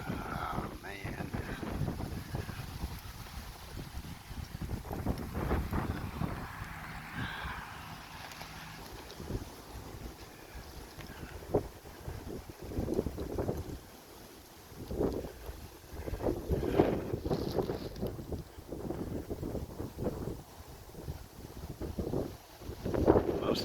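Rain falling during a windy summer storm, with gusts buffeting the microphone and a rough, uneven wash of noise throughout, rising and falling in strength.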